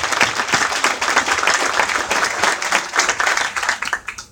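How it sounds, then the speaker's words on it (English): An audience at a CTrail Hartford Line ceremony at Meriden Transit Center claps steadily, a dense, fairly loud round of applause that thins into scattered individual claps near the end. "If we can give them all a round of applause,"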